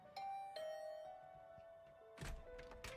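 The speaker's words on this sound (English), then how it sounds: "I just returned to my room when the doorbell rang." A doorbell in the Last Defense Academy visual novel game gives a soft two-tone chime over quiet background music, followed by a brief thunk near the end.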